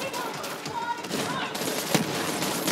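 An enemy turret in the Borderlands 3 video game fires, a dense, continuous rattle of rapid gunfire with small impacts and game effects layered over it, steady and moderately loud throughout.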